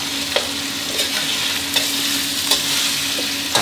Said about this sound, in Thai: ต่อมาได้สักครู่ครับให้เราเร่งไฟแรงขึ้นมาครับเติมน้ำลงไปเยอะนิดนึงครับ